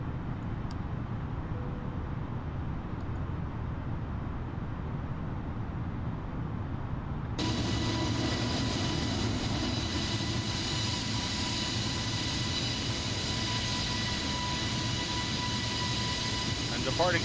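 A steady airliner engine drone during a climb out of San Juan, Puerto Rico, in Microsoft Flight Simulator 2020, continuous and broadband with a tonal whine that jumps louder partway through.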